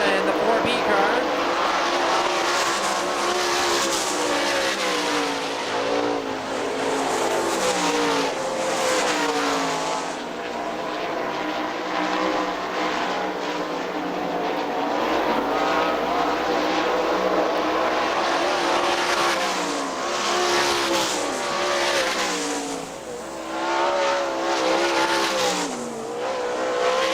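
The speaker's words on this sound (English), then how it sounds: "White flag, 1 to go this time for Tom Bush from Bedford, Indiana in the 4B car." Sprint cars of the Great Lakes Outlaw Sprint Series roar around Hartford Speedway Park on the final lap, loud engines rising and falling continuously as cars pass, with a race announcer talking over them.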